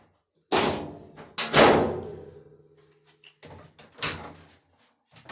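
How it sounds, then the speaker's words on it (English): A Samsung DV45H7000EW dryer top slams shut with a loud close thud, followed by a second heavy knock and a few lighter clunks and rattles as the panel settles. "So now that these are in, I can just slam the top closed"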